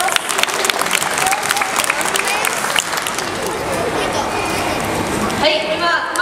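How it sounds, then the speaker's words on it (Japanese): Spectators at a homemade robot contest clap in a sustained round of applause, many hands beating together fairly close, while a voice talks over it and the clapping thins toward the end. "2人にもう一度大きな拍手をお願いいたします。"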